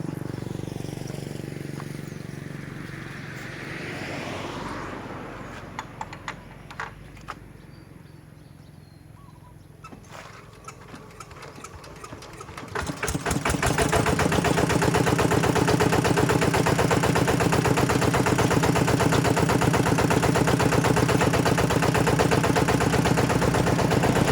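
A used tractor's engine cranks with sputtering clicks, catches, and settles into a loud, steady, close idle that runs continuously to the end.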